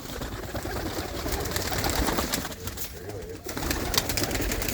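Pigeons in a hobbyist's loft coo softly and repeatedly, their low murmuring calls overlapping into a continuous, fairly close chorus with some rustling and movement around them.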